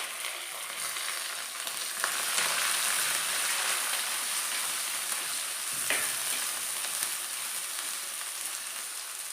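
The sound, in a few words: green chilli, onion and curry leaves sautéing in a pan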